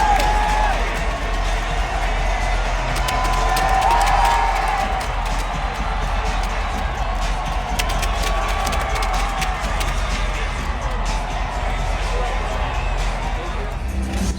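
An NBA arena crowd at the American Airlines Center in Dallas shouts, cheers and whoops during a free t-shirt toss. The loud, dense roar of voices holds steady throughout.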